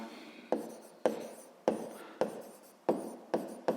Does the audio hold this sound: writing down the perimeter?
yes